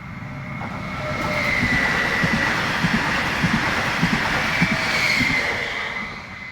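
A passenger train passes close by on the Treviso–Ostiglia line, a loud, sustained rumble that swells and fades over several seconds, with rhythmic clickety-clack of wheels over rail joints and a faint high squeal.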